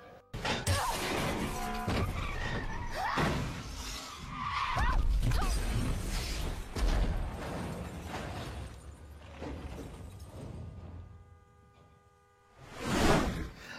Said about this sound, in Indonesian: tiba-tiba mobil Michelle mengalami kecelakaan